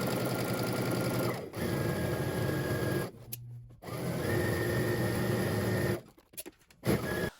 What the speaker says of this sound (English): we're going to head to the sewing machine